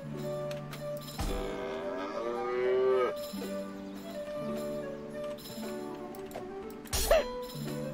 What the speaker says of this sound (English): Cows!